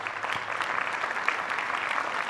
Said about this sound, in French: je vois que c'est une bonne salle parce que ça applaudit beaucoup